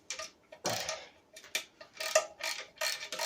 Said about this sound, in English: with my extension I will just take them bolts out